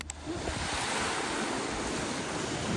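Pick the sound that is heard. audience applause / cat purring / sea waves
sea waves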